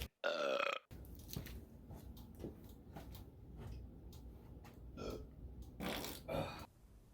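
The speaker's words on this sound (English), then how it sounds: "Burp." A loud, close burp rings out alone at the start, a single drawn-out belch, followed by quieter clatter and noises from a garage session working on a Toyota Yaris.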